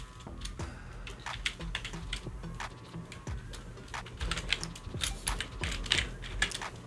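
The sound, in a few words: typing on a computer keyboard to edit LinkedIn URL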